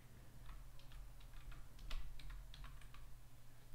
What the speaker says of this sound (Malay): Kemudian saya tekan enter pada papan kekunci.